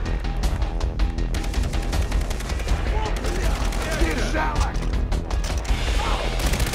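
Rapid bursts of gunfire in Far Cry 3 crackle continuously from several directions, fairly loud, with a voice talking over the shooting.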